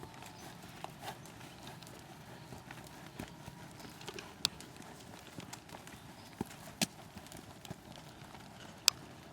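Horses' hooves walking in a riding arena during a lesson, with faint, irregular clip-clop steps and occasional sharper hoof strikes over a low, steady background.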